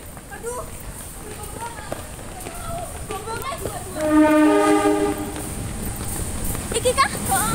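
A passing train at a busy Indonesian railway station, bound for or from Kediri, sounds a loud, steady horn for about a second amid rolling rail noise, with people talking nearby throughout.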